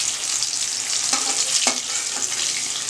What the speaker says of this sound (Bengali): আলুটা হালকা করে ভেজে নিলাম